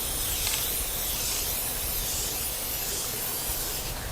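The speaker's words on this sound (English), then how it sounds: "Again, start the spray outside of the container and let go when you're off on the side." Spray paint hisses steadily onto a container outdoors, a continuous close, loud aerosol spray with a bright broadband rush running throughout, shifting slightly in intensity as the can moves.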